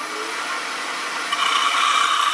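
A handheld quarter-inch drill bores through a wooden piece for a dowel stem, a steady high whir that grows louder and grittier partway through as the bit bites into the wood, with no talking.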